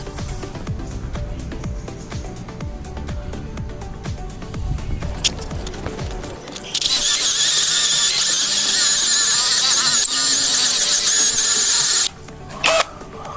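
A cordless drill bores through very thick steel, its bit grinding and squealing loudly and steadily for several seconds before a brief pause and a short final burst; lower mechanical noise and handling come first.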